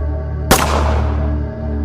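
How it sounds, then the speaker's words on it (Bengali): A single gunshot fired in the dark as a sound effect: one sharp, loud crack followed by a long, fading echo over a low steady hum. "আবার অন্ধকারে গুলি চালায়"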